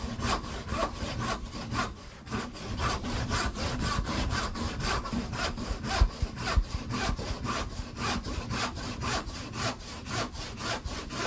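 A hand saw rips steadily down the cheek of a wooden tenon, its strokes in an even back-and-forth rhythm, close and clear with no voices over it.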